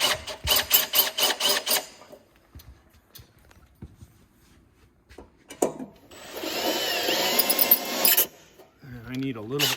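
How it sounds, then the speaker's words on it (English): A cordless hammer drill drives screws into wood in short bursts, then runs one longer steady whir, close up, with talking between the runs. "I want to get my other screws to start before I would run all of them in tight"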